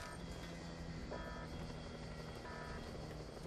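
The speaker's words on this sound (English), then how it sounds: "Where's the chopper?" Helicopter in the video game Just Cause 2, a steady whirring rotor drone with faint intermittent tonal beeps on top, constant and fairly quiet.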